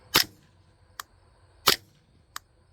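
Suppressed .22 rifle shots from a Ruger 10/22 with an integral suppressor barrel in a ZK-22 bullpup stock, firing Aguila subsonic rounds: two sharp, close muffled cracks, each followed by a lighter mechanical click, with quiet between them.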